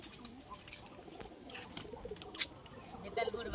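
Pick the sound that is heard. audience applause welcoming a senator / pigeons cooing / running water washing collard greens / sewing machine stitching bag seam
pigeons cooing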